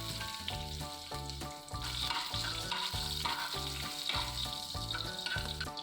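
Mustard seeds, chopped onion and chili frying in coconut oil for a banana stem stir fry, a steady close sizzle running throughout with rhythmic background music on top.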